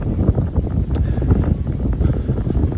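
Steady gusting wind outdoors on a walk across open fields near Thornton, a continuous low rumble buffeting the microphone with no pauses or voices.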